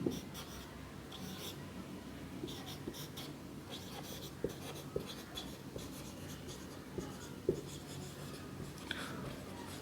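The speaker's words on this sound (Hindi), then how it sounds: "तो इसको हम लोग लिखेंगे" Pen writing on a surface during a biology lesson on the animal kingdom, a steady scratchy scribble with small taps, faint and close, continuing without talk.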